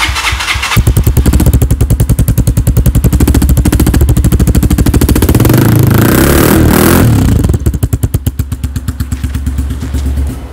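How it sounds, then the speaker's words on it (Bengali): A Rusi XL motorbike engine idles and revs indoors in a closed room, a loud, steady, rapid thumping beat that surges and swells through the middle before easing back to a lumpy idle, with no talk over it. "আর বাইকটার এই পর্যায়ে আমরা একটা সাউন্ড শুনিয়ে দিব।"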